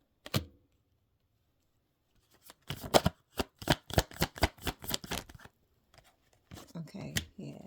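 Someone shuffles a deck of tarot cards in a rapid series of crisp riffling bursts, close and distinct, with quiet gaps between them.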